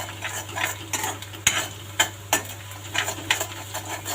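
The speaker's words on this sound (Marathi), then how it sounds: "फोडणीमध्येच टाकायचं मीठ, कांदा भाजतो पण लवकर" Onion frying in tempering oil in a pan, with salt added, a steady soft sizzle under repeated sharp scrapes of a spoon stirring against the pan at irregular intervals.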